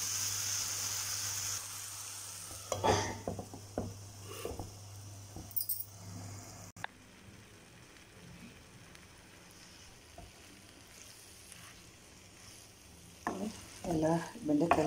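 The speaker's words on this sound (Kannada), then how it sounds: "ಎಲ್ಲ ಬೆಂಡೆಕಾಯಿ ಇದರೊಳಗೆ ಜೊತೆಗೆ ಹಾಕಿ ಎಲ್ಲ ಮಿಕ್ಸ್ ಮಾಡ್ತಾ ಇದ್ದೀನಿ ಇದ್ರ ಜೊತೆಗೆ ಒಂದು ಸ್ವಲ್ಪ ಹೊತ್ತು ಫ್ರೈ ಮಾಡಬೇಕು" Okra is stirred and fried in a pan, with close, intermittent scraping and clinking strokes over a soft continuous sizzle, quieter in the middle stretch and busier at the end.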